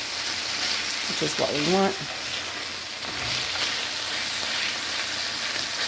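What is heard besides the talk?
chicken pieces frying and being stirred in a pan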